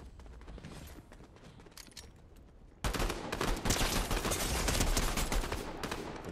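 Rapid bursts of gunfire from the Fortnite video game, Halloween mode. Sparse shots at first, then a loud, sustained volley of dense automatic fire that keeps going.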